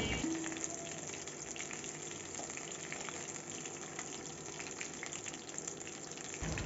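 Steady, dense sizzling of crab pakoras deep frying in hot oil, continuous and close, with no talking.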